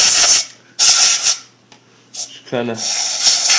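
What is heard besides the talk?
spraying inside camera water housing push button to clear water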